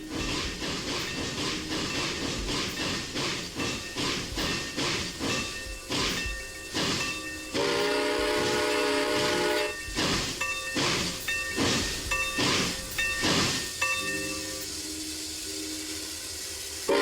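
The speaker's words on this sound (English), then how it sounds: "let's shove the train over here" A steam train chugs with rhythmic bursts of hissing steam, and a whistle sounds midway through, with a steady clattering pulse throughout.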